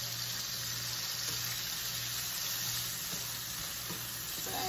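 Omelette frying in a pan with a moderate amount of oil, giving a steady, even sizzle that runs unbroken throughout at close range with no voices.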